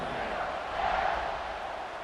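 A stadium crowd in a college football video game roars at kickoff, a dense sustained wall of cheering that swells slightly mid-way, steady and enveloping with no distinct voices.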